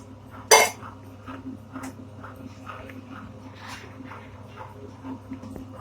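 Stirring jaggery syrup into urad dal porridge with a metal spoon gives soft clinks and scrapes against a pot, with one sharp clatter near the start and a dog whimpering nearby.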